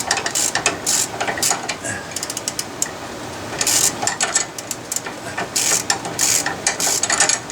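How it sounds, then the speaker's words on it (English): Ratchet wrench working loose a front strut bolt on a 1999–2005 Volvo S60, giving rapid bursts of close, loud metallic clicking in uneven runs with brief pauses between strokes. "use a ratchet and then use a wrench and loosen the"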